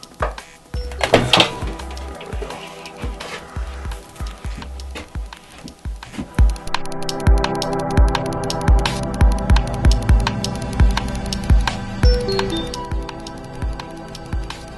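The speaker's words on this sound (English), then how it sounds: "Take off the 4 mounting brackets." Mounting brackets taken off a bathroom mirror during a renovation: a run of sharp metallic clinks, clicks and knocks, close and fairly loud, irregular at first and then coming in quick repeated bursts.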